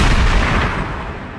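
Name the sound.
gunshot from sawed-off hunting shotgun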